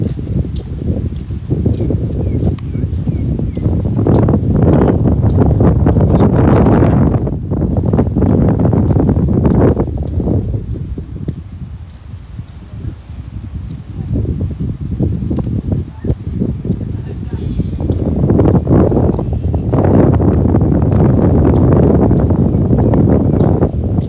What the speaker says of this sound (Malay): Kuat angin. Dengar ke bunyi angin?